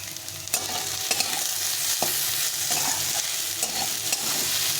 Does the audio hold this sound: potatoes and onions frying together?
yes